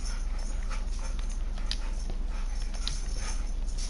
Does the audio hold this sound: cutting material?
no